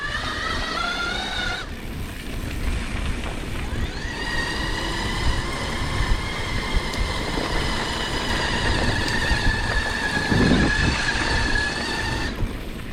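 A CYC X1 Pro Gen 2 e-bike motor runs at about one-eighth throttle, giving a steady, close, tonal whine over road and wind rumble. It briefly drops out once near the start, then resumes and holds.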